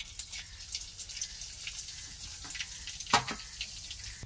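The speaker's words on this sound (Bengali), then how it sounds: "এটাকে এবার ফোড়ন দেবো আমি।" Whole cumin, cardamom, cinnamon and cloves sizzle steadily in white oil with a little butter, a continuous close hiss with a few sharper crackles and one louder pop near the end.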